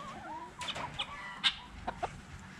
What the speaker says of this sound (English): But dude, you're a rooster, though.